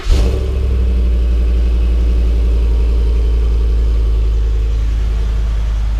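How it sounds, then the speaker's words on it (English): A stock V8 truck engine starts up and settles into a loud, steady idle, its deep rumble running evenly for several seconds with nothing else heard. "V8, baby. It sounds good just stock."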